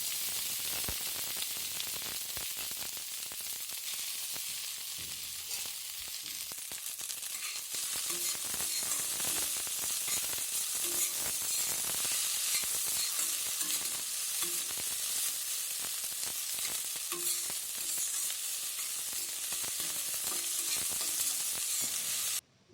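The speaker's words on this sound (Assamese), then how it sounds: "সেই তেলখিনিতে এতিয়া মই মাছৰ পেটু ভাজিম" Fish belly pieces frying in hot oil make a steady, close sizzle and crackle that grows louder and denser partway through, then cuts off abruptly at the end.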